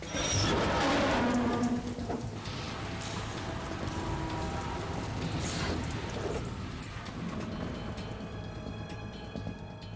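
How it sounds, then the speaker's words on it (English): Steady rain falling in a video game, a dense broadband hiss that is loudest at the start and holds under other game ambience, with no voices. "It stopped raining."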